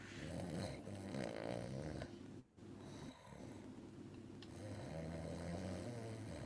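A voice imitates snoring with rasping, rumbling snore sounds of steady loudness, broken once by a brief near-silent gap before the snoring resumes.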